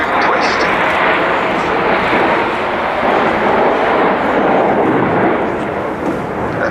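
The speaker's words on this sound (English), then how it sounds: "as they come down the hill here, the aircraft are building up now to 400 miles an hour" Red Arrows RAF jets roar past at high speed during a display at RIAT 2011, a loud broadband rush that swells and holds, with a commentator speaking over it.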